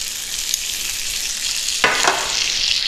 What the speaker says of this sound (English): So I'm going to go ahead and just dump my shrimp in